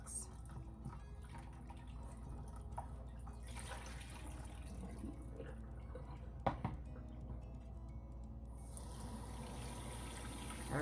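Water from a tap runs and drips steadily over a fish that was just taken from the freezer and is being washed and thawed before cooking. The sound is soft and continuous, with occasional splashes and no talking.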